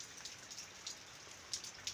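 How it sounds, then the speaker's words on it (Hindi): Steady rain falls outside on a cold day, a soft continuous hiss with occasional sharper drops tapping nearby, faint and with no talking. "बारिश ही बारिश हो रही है"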